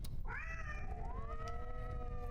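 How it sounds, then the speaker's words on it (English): A cat trapped in a cage lets out a loud, drawn-out meow that rises and then holds steady before trailing off, alone with no talk over it. "Why is he meowing so loud? He's trapped in a cage."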